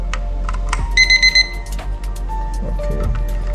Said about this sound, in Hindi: जब भी इसमें बैटरी लगाते हैं तो ये एक बार चालू होने के वक्त अलार्म बजता है।